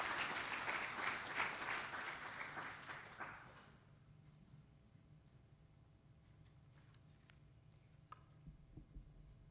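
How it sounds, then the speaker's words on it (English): Audience applause for award winner Catherine Abbott, a sustained crowd clapping that fills the first few seconds and then fades out, leaving a quiet room with a few faint knocks and shuffles. "Let's give her a round of applause."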